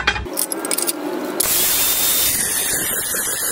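An angle grinder cuts into a ceramic tile with a harsh, high-pitched whine that shifts into a steady, bright abrasive grinding, loud and close, with no talking.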